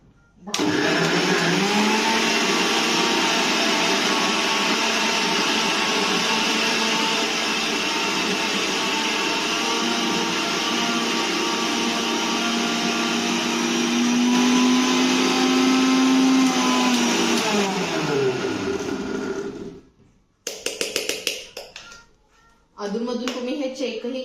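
Electric mixer running at high speed churning milk cream into butter, a loud continuous whirring drone with a wavering pitch that winds down after about twenty seconds, followed by brief choppy bursts and a restart.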